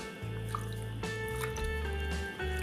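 Rice being rinsed in two or three changes of water gives wet sloshing, dripping and pouring sounds with swirling liquid, close and fairly loud, with no talking.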